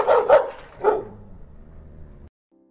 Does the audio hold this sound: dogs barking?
yes